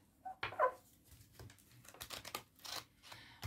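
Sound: shuffling tarot cards

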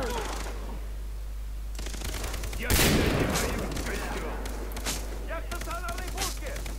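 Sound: machine gun fire in the video game Far Cry 3

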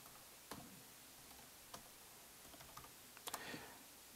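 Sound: typing numbers on a computer keyboard

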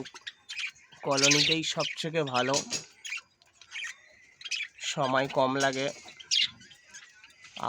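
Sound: pet budgerigars and Java sparrows chirping in a colony

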